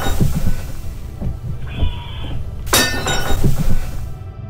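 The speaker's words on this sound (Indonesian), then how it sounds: "tiba-tiba pot itu hancur berkeping-keping" A pot shattering on a floor: a sharp, bright crash of breaking pieces cuts through a steady background wash of rain, with a brief tone and dull thumps around it.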